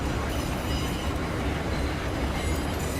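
A Bombardier M7 commuter train running in Garry's Mod, a steady continuous rumble and rail roar with faint wheel noise throughout, no pauses or voices.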